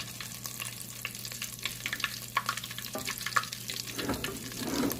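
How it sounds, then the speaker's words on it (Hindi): Ginger frying in a pan on a low flame for rajma, a soft continuous sizzle with scattered faint crackles and light stirring scrapes near the end, quiet and without any talking. "अदरक को हमने लो फ्लेम पे 1 से 2 मिनट तक फ्राई कर लिया है।"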